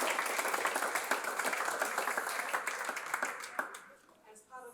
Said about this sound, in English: let's keep clapping for Hannes Koch, shall we